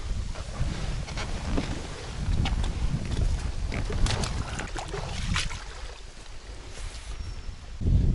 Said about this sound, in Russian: Правда, все-таки ветер здесь дует.